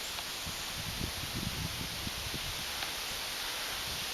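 Wind blowing through woods on a walk, a steady broadband rush with rustling gusts and faint low buffeting against the microphone, continuous and fairly loud without any talk.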